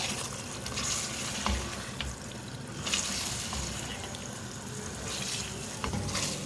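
Chicken pieces fry and are stirred in a masala over medium heat with a little water added, for an egg and chicken curry. A steady, close sizzle with scraping stir strokes continues throughout.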